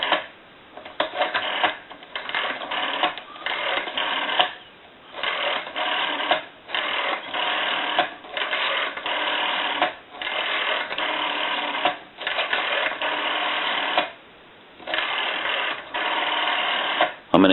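A red rotary dial wall telephone being dialed. Repeated bursts of whirring clicks, each separated by short pauses, sound close and steady with no voices.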